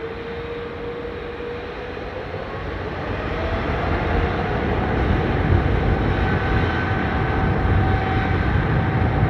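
A Virgin Atlantic Airbus A330-300 bound for Orlando rolls for takeoff at London Heathrow, a loud steady jet roar with a rising whine that swells gradually over several seconds.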